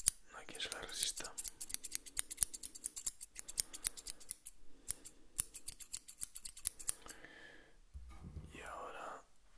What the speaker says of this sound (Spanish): Las tijeras.